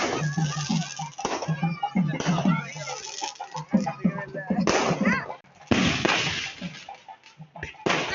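Rapid bursts of firecrackers popping and cracking at a temple festival, dense and loud, with crowd noise and voices mixed underneath.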